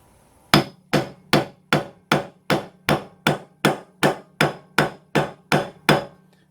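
A hammer taps a part onto a starter motor in fourteen sharp, evenly spaced metallic knocks, each ringing briefly, close and loud, with no talking.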